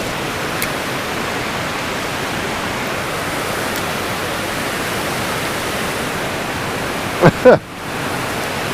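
Whitewater rushes through a fall spillway in a steady, loud, broadband roar that holds for the whole stretch, broken near the end by a brief handling bump close by.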